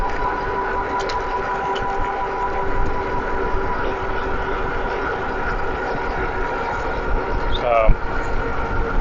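Steady electric hum and drone from a Lectric XP e-bike running on motor alone at about 20 mph, with continuous wind and road rush underneath and a brief rising whine near the end.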